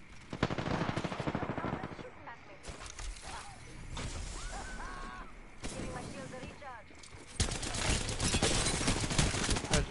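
Rapid bursts of automatic gunfire from a weapon in a shooter game crackle loudly in several volleys, with short pauses and scattered mechanical clatter between, and players talking faintly underneath.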